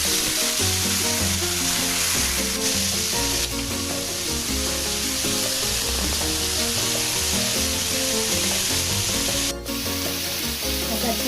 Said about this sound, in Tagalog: Lagay na po natin ang ating chicken. Ayan na po natin marito ang ating chicken. Together with garlic,